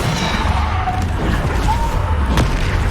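Bombarda blasting spells exploding amid other spell casts in the Hogwarts Legacy video game, a run of deep booms and crashes with sharp impacts layered over a continuous low rumble and some voice.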